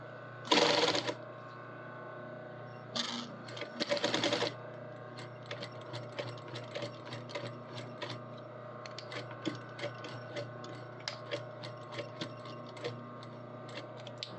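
A sewing machine runs in a few short loud bursts at first, then settles into a long stretch of quiet, evenly spaced ticking clicks from its mechanism.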